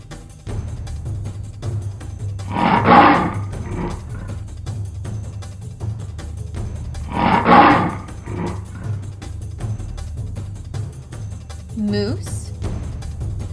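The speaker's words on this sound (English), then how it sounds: "Lion." Two deep lion roars, each rising and fading over about a second and spaced a few seconds apart, ringing out loudly over a steady low rumble, with a brief higher call near the end.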